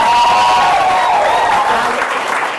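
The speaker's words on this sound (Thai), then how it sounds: "ขอเสียงปรบมือให้คุณปูศิริมาพิปัญญาครับ" Loud, dense audience applause at a business seminar, a thick wash of clapping from a crowd held steady throughout, close and bright with a faint tonal hum beneath it.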